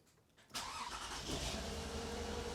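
A Toyota Aurion engine cranks briefly and fires up, then settles into a steady, loud idle close by.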